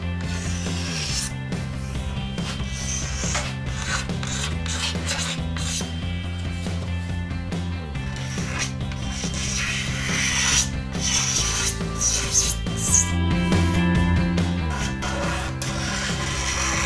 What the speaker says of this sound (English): that's the best part of the dry sanding done